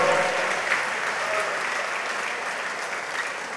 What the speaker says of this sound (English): A big round of applause again to all of them.